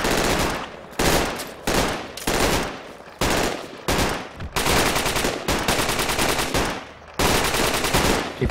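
Sustained bursts of DP-28 machine gun fire in the Project Reality video game, loud and close, coming in repeated long strings separated by short pauses.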